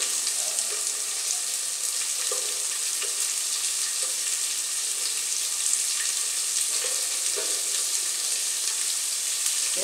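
Onion and half a bell pepper fry in a pan, giving an even, dense hiss of sizzling for ten seconds with faint occasional stirring taps, close and unbroken by voices.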